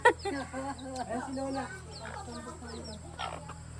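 Soft, rapid clucking from a chicken close by, a series of short bursts with faint voices murmuring in the background.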